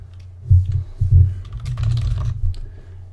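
Computer keyboard typing in short bursts of close, soft clicks and key taps, with brief pauses between runs of keystrokes.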